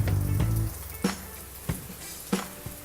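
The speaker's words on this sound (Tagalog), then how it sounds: "ilalagay na natin ang luya. At halu-haluin natin." Ginger being sautéed and stirred in a pan, a soft continuous sizzle broken by several sharp clinks and scrapes of the utensil against the pan, faint and close.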